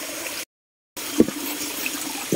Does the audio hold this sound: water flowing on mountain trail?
yes